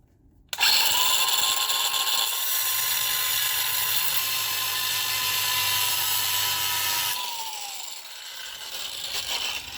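A power tool with a cutting wheel grinds at the rear axle seal of a Jeep JK, starting abruptly with a loud, high whine that holds steady for several seconds before winding down.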